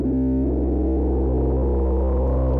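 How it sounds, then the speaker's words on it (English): Eurorack modular synth drone run through a wasp filter with heavy resonance and no reverb, a loud sustained buzzing tone that shifts in timbre, close and alone. "I'm controlling the level of the drone via the level input"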